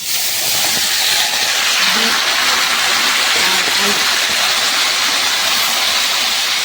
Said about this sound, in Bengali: চলো এটা হালকার উপর ভাজা ভাজা করি